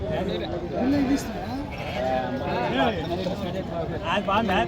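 Sheep and lambs bleat repeatedly amid a busy crowd at the Pebbair sheep market, wavering calls rising over constant background chatter and market noise.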